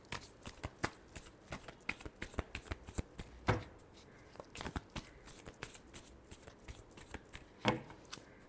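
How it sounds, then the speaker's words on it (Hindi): Tarot cards shuffled by hand during a reading, a rapid series of crisp riffling snaps and slaps in quick bursts, close and alone with no talking. "last shuffle,"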